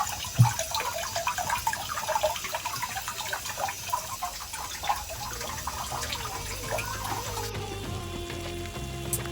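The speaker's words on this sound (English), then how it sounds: "Sezincote has some of the best use of water features I've seen in a manor house garden" Steady, gurgling rush of water from a garden water feature at Sezincote manor house garden, continuous and even throughout with no voices.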